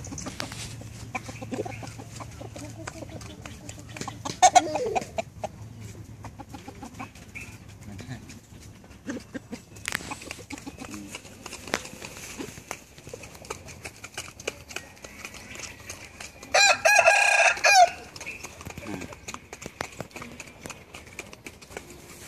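Chickens cluck intermittently outdoors, with a loud rooster crow bursting out near the end among scattered rustling and knocks.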